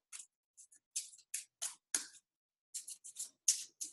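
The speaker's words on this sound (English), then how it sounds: "now I have the butterfly chakra cards. I'm going to shuffle those, and Elena's going to say stop" A deck of butterfly chakra cards is shuffled close by in short, crisp bursts of riffling and flicking, separated by brief silent gaps.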